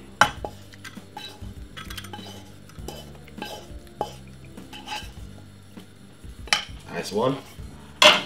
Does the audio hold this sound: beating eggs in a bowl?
yes